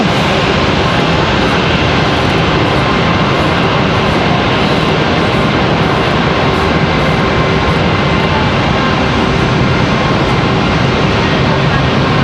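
Airliner, JetBlue or Delta, arriving at Raleigh-Durham airport, a steady loud broadband jet engine roar that holds constant throughout without pause.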